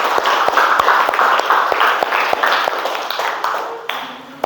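Students in a classroom giving a short round of applause during a relay-race lesson, brisk close clapping from a small group with a few distinct sharp hand strikes, tapering off toward the end.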